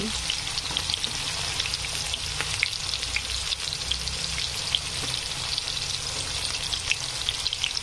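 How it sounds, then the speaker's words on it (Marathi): Onions for kanda poha fry in hot oil with cumin seeds, a loud, continuous close sizzle with faint stirring scrapes running the whole time and no voices. "कांदा छानपैकी असा फ्राय होऊ द्यायचा।"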